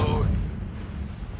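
The Incendio fire spell in Hogwarts Legacy goes off as a deep, booming burst that opens loud and then settles into a low, fading rumble.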